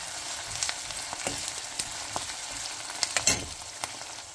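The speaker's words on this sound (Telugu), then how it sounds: "మంచిగా వేగనివ్వాలి." Chopped garlic frying in a pan for cherry tomato curry, a quiet continuous sizzle with small pops and occasional stirring scrapes, no talking.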